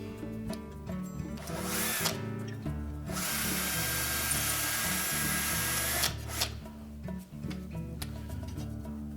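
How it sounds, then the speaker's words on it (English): A power drill whines loudly and steadily, bursting into long continuous runs with brief pauses between, the motor pitch shifting as it bites through metal while drilling a mounting hole on a refrigerator. "And then we're going to drill a hole in that location that we've marked"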